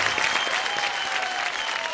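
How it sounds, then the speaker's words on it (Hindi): Loud applause from a TV show studio audience on Bigg Boss season 13, steady dense clapping filling the whole moment without pause. "अब जोरदार तालियां इन दोनों के लिए"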